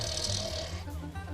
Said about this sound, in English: And he had this snore.